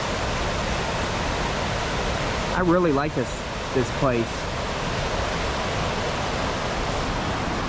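Steady, even rush of river water from the waterfall at Paine Falls Park in Painesville, Ohio, continuous throughout, with someone briefly speaking over it midway.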